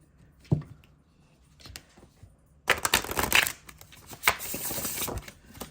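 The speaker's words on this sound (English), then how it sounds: "Let me show you how I shuffle it." Oracle cards with gilded edges being shuffled in quick riffling bursts, a brief tap first, then a dense crackling flurry with a short pause before it resumes, close by.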